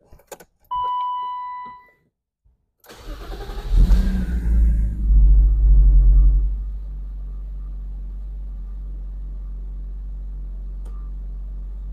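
A 1991 BMW M5 E34 inline-six cranks briefly, catches and revs before settling into a steady, mellow idle, heard close and loud, with a key chime beforehand.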